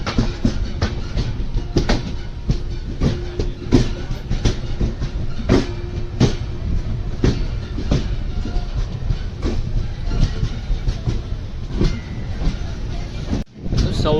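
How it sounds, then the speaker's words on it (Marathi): The Konkan Kanya Express runs on after leaving Rajapur station, with a loud steady rumble and rhythmic clickety-clack of wheels over rail joints heard from inside the coach, and a brief dip near the end. "सो आता राजापूरवरून गाडी निघालेली आहे, बघू शकता इकडे."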